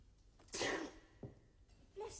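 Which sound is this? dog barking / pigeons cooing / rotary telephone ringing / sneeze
sneeze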